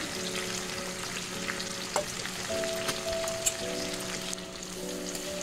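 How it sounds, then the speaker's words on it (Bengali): Chicken frying in a pan over a high gas flame, a steady loud sizzle with occasional stirring clinks and a faint background whine, no talking. "এখন গ্যাসটা আমি হাই ফ্লেমে রেখে দিয়েছি, তাহলে চিকেনটা খুব ভালো ভাজা ভাজা হবে।"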